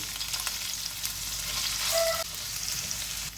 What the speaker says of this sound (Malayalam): എണ്ണ ചൂടായി കഴിഞ്ഞപ്പോൾ ഇഞ്ചിയും വെളുത്തുള്ളിയും കൂടെ ചതച്ചതാണ് ഇട്ട് കൊടുക്കുന്നത്.